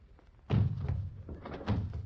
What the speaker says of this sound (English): He's locked the door.